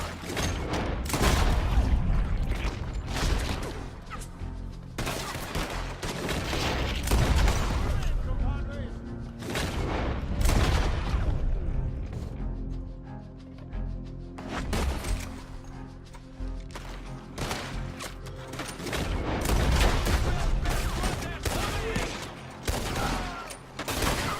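Gunfire in Red Dead Redemption 2 crackles in repeated loud shots and volleys throughout, with booming impacts spaced irregularly and voices speaking between the bursts.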